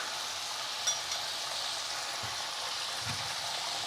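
Chopped onion goes into hot oil in a pan where chicken pieces have been frying, giving a steady close sizzle that holds level throughout with a couple of faint stirring knocks.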